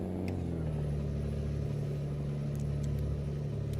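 A DAF XF Euro 6 truck engine in Euro Truck Simulator 2 hums steadily as it pulls away without a trailer, a continuous mid-pitched drone that rises slightly in pitch early on, with no talking.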